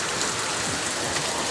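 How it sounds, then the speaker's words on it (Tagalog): Steady rain pours down, a dense continuous hiss of drops pattering on surfaces close by. "Nabot na kami ng ulan."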